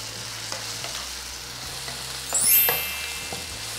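Chopped chow chow (chayote) sautéing in a pan for an egg stir-fry, a continuous sizzle with a few stirring scrapes and a brief louder hiss midway.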